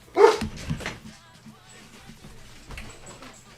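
Dogs bark at a squirrel outside: one loud, close bark opens the clip, then quieter yips and whimpers follow over a low background hum.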